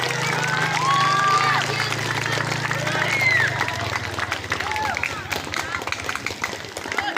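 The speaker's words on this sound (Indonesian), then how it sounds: "Beri tepuk tangan untuk anak-anak yang luar biasa." Students at a Monday morning school ceremony clap in a dense burst of applause. Crowd babble and a speaking voice run over the clapping as it carries on at a steady level.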